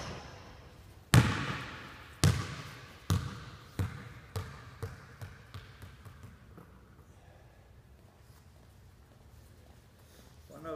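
A basketball bounces repeatedly on a court during shooting practice, several sharp hits that come steadily and fade in strength as the dribbles die away, with no talking.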